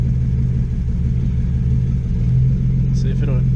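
Straight-piped BMW Z4 with headers and a new motor idling just after its first start: a loud, steady low rumbling idle with pulsing exhaust, close by, while someone talks over it.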